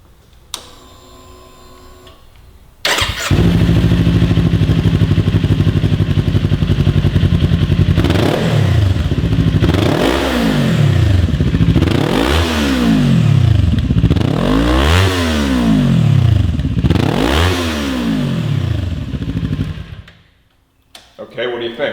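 A 2018-2023 Kawasaki Ninja 400 fitted with an Akrapovic slip-on exhaust starts up and idles, then is revved in a series of about five rising-and-falling blips, loud and close, before cutting off.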